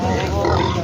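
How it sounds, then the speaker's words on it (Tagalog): Pig squealing continuously at close range while being weighed for sale, a loud, dense, steady cry filling the whole short moment. "Pang-apat na baboy."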